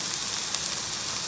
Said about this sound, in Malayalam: ഉള്ളി ഗോസ് ഇൻ, അതിൻ്റെ കൂടെ വെളുത്തുള്ളി പോയി.